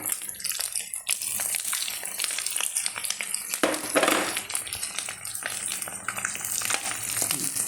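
Masala paste hitting hot coconut oil for a Kerala-style egg roast, a steady dense sizzle and crackle with a brief louder surge of bubbling midway, close and continuous with no talking.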